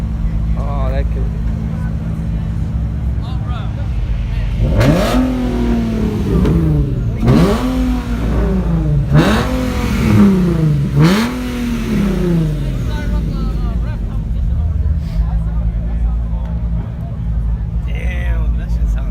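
A car revving hard several times at a car meet, rising and falling engine pulls in quick succession amid background crowd chatter and people talking nearby.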